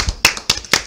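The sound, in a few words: audience clapping on request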